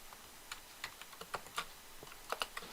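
A computer keyboard is typed on in short bursts of crisp key clicks and taps, with some keys struck in quick pairs as if for shortcuts. The clicks are quiet and close, with no voices.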